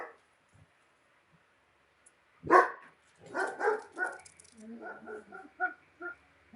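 A dog barks outdoors as families ride past on bikes, a burst of sharp, fairly close barks followed by a string of quicker, smaller yips and whines, with quiet gaps between them.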